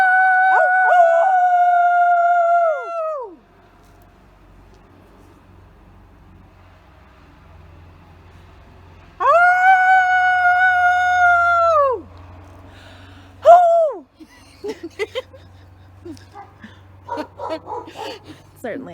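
Dogs and people howl together outdoors in long, drawn-out wailing choruses that rise and fall, pausing in between, then end with shorter yelps and calls, while voices sound close by.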